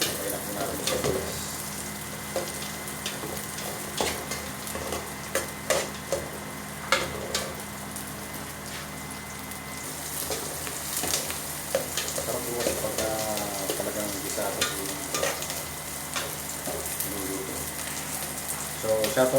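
Garlic and onion sauté in a pan for a Filipino coconut-milk crab dish, a steady close sizzle with intermittent stirring clicks and scrapes running throughout.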